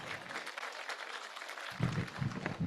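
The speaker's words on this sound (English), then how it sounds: "Let's give ourselves a round of applause for joining this ceremony." A round of applause from the audience at a high-level United Nations anniversary ceremony on Ethiopia and the UN, soft and fairly distant clapping with a brief voice heard near the end.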